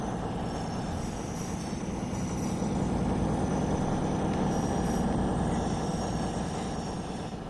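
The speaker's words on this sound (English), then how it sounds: "Here's the Voyager, what a lovely train." Simulated Class 220 Voyager diesel train in Train Sim World 6 on the Birmingham Cross City Line, a steady loud rumble and rolling hum held throughout with no talk.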